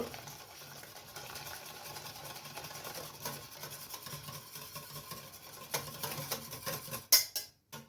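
Crème caramel batter is whisked in a bowl with continuous soft scraping and swishing strokes, close and low in level, ending in a few louder taps of the utensil against the bowl.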